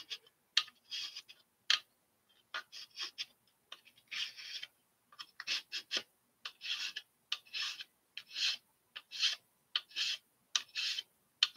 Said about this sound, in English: He's just filing down these dots.